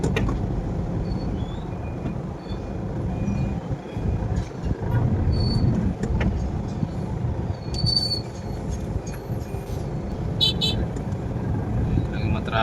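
Steady road traffic rumble on a congested highway approach, continuous and fairly loud throughout, with a short horn toot near the end and light talk mixed in.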